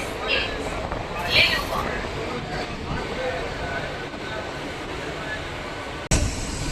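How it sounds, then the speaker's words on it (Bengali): A local train on the Howrah–Shirampur run rolling into Liluah station, a low, steady carriage rumble with faint squeals and clanks, while a person talks over it. "আমাদের ট্রেন এসে প্রবেশ করেছে তার প্রথম হল্ট লিলুয়া"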